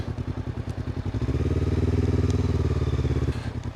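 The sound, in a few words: motorcycle riding and turning around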